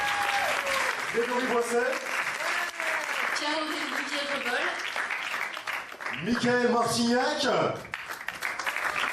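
Audience applause at a film premiere screening, steady clapping running throughout while a presenter reads out names over it.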